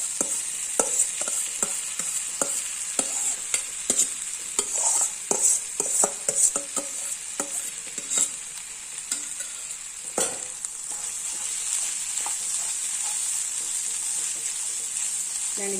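Vegetables and rice are stirred and fried in a pan. A steady high sizzle runs throughout, while a spoon scrapes and taps against the pan in irregular close clicks and knocks.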